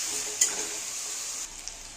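Papaya and potato pieces with turmeric frying in a covered pan for a Bengali prawn dish: a continuous close hiss of sizzling oil with a brief clink early on, fairly quiet and with no talking.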